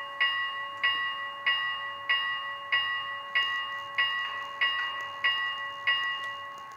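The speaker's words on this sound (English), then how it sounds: "The bell." Locomotive bell from an Athearn HO scale Challenger #3985 with a Tsunami sound decoder rings about a dozen even, evenly spaced metallic strikes, each ringing briefly before the next, heard clearly on its own.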